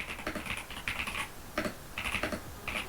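Typing on an Epomaker TH80-X mechanical keyboard for a switch sound test, close-up bursts of quick keystrokes with short pauses between runs, fairly soft and deep-toned.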